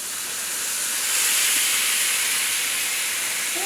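Chicken pieces laid skin side down in a hot pan with garlic give a loud, steady sizzling hiss that fills the whole stretch without letup, and no one speaks over it.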